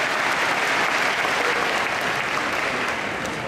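An audience at the Equitana equestrian show applauds a 19-year-old horse, steady dense clapping from a large crowd filling the whole moment without a break.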